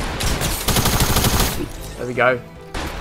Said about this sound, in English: of course I missed a shotgun shot